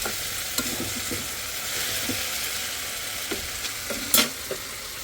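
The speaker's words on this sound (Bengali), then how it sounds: "এখানে মাছ রান্না করবো তার জন্য মশলা কষাই নিলাম" Spices being sautéed in a pan as the base for a fish curry, a soft continuous sizzle with occasional sharp clinks and scrapes of stirring, close by and fairly quiet.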